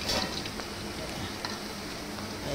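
Medu vada frying in hot oil, giving a steady close sizzle and crackle with faint ticks and small pops throughout.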